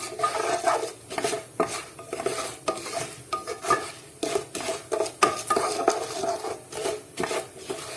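A spoon stirs and scrapes through food sautéing in butter in a pan, with a steady run of close, rhythmic scraping strokes and a soft sizzle underneath, no talking.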